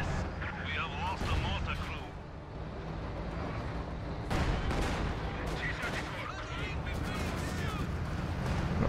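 Gunfire in Company of Heroes 2 during a battle on the Lublin map, with a dense, steady din of rapid shots and booms rolling through the whole stretch and a voice talking over it.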